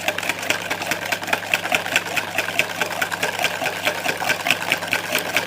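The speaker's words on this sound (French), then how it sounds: "l'œuf et le sucre qu'on mélange au fouet" A whisk beats egg and sugar together in a bowl while making a Saint Valentin chocolate-raspberry entremets, giving a fast, steady rhythmic clatter close up, with no talking.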